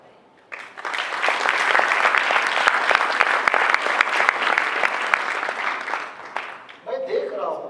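An indoor audience at a business talk breaks into sustained clapping that swells quickly, holds steady for several seconds, then fades, followed by a brief voice.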